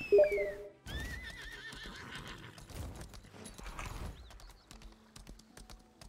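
A horse mount in the video game Lost Ark gives a loud whinny, then hooves clip-clop in a steady galloping rhythm under faint game effects and keyboard clicks.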